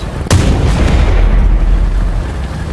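A single heavy cannon shot from an M4A4 tank in the War Thunder game, a sharp close boom at the start that rolls into a long, loud low rumble continuing to the end.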